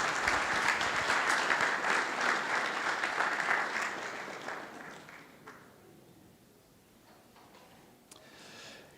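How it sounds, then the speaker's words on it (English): Audience applause fills the room at a community heroes luncheon. It starts as a full, sustained round of clapping, tapers off after a few seconds into quiet, and ends with a faint stir of sound. "Let's give her a big round of applause one more time."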